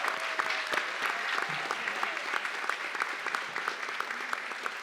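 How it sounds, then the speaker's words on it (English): Steady, dense audience applause at a youth career program graduation honoring employer partners, sustained crowd clapping at even loudness throughout with a faint voice briefly underneath. "Can we give a warm round of applause for our employers?"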